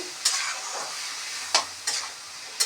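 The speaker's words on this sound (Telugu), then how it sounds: "ఉప్పు వేసుకున్నాక బాగా అక్కడ ఇక్కడ బాగా కలుపుకోవాలి" Bitter gourd curry is stirred in a hot frying pan, with a constant sizzle broken by a few sharp scraping strokes of the spoon at irregular intervals.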